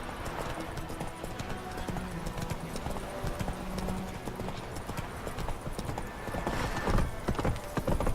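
Horse hooves clip-clop in a quick, steady trot in The Witcher 3 video game, loud and close over game ambience, with a faint whinny-like sound in the mix.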